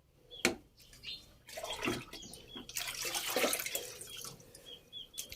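Water running and splashing as hot and cold are mixed and poured for a bath, with a sharp knock near the start and uneven rushing and spattering throughout, fairly quiet and with no voices.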